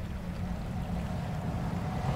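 Splashing footsteps of a character wading and running through water in the Resident Evil 2 Remake game, a steady loud churning wash that continues throughout with no speech.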